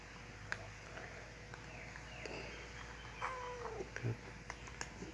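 A cat meows a few times at a Buddhist temple in Thailand, brief faint cries set against a quiet, hissy outdoor background with small scattered noises.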